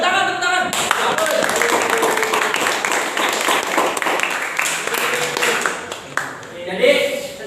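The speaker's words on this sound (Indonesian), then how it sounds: "Tepuk tangan, tepuk tangan." A classroom group at a physics product presentation claps in a loud, close burst with hands striking unevenly, and voices chatter over the clapping before it breaks off near the end.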